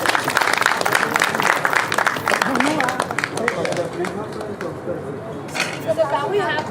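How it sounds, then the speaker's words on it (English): A conference audience claps a participant out, a dense burst of clapping that thins and fades after a few seconds as voices and murmuring take over. "can we clap him out?"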